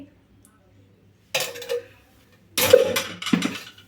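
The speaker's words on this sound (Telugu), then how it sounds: "ఇప్పుడు ఇవన్నీ వేసాము కదండి కలుపుకుందామండి బాగా ముక్కకు పట్టే విధంగా అయితే కలుపుకుందాము" Spices and oil are mixed into raw banana pieces in a bowl. Two short bursts of clinking and scraping sound against the bowl, separated by a quiet pause.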